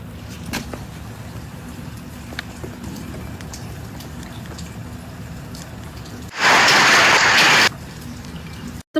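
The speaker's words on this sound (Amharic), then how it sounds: "እየዘነበ እኮ ነው ዝናብ" Steady rain patters and hisses close by, and a passing vehicle can be heard. Near the end a louder, dense burst of rushing noise takes over, then stops abruptly. No one speaks.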